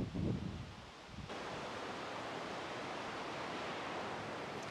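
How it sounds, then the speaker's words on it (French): Outdoor rushing of a river at Parc des Chutes, a steady broad wash of flowing water after a brief low bump at the start, fairly distant and soft. "On entend la rivière"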